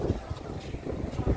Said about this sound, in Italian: c'è un vento bestiale